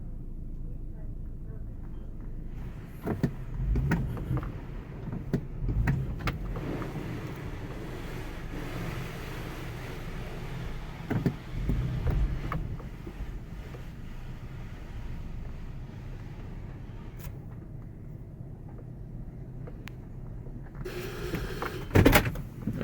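An Autec Evolution soft touch car wash in Tucson runs around a car from inside, with steady whooshing and rumbling, scattered thumps and brush slaps, and a voice talking now and then.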